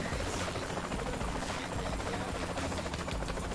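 A helicopter flies in the video game Saints Row 3, its rotor giving a loud, steady whirring drone that fills the whole stretch without any talk.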